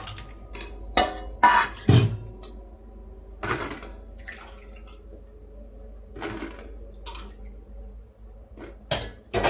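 Intermittent clatter of pots and utensils with soft splashes and drips of water as vegetables are washed, sharp knocks spaced out over a quiet kitchen background.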